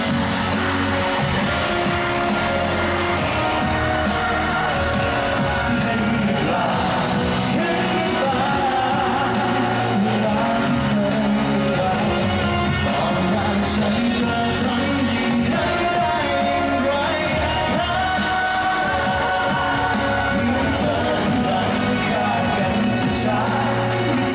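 Fans scream loudly in a concert hall as a star appears on stage as a hologram, a dense, sustained roar of yelling and shrieking voices over music, with no break.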